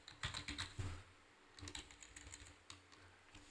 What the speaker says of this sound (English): first you need to type your text.